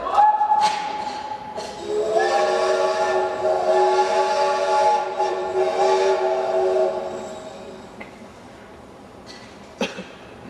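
A train horn sounds a sustained chord over rumbling rail noise, then fades, leaving quiet clatter and a sharp knock.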